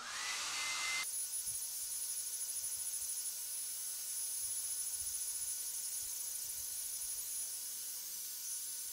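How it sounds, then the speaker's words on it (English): A hair dryer blows at close range as a continuous, loud, steady whoosh with a high whine, running evenly throughout with no voices. "I'm going to get back out the magic hair dryer."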